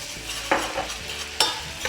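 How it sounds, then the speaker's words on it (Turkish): Melted butter in a saucepan takes a spoonful of sweet red pepper powder, giving a soft steady sizzle with a few sharp stirring scrapes, close and alone. "Tereyağı eriyip iyice kızdıktan sonra içine 1 yemek kaşığı toz biber ekliyorum."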